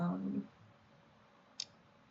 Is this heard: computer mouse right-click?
yes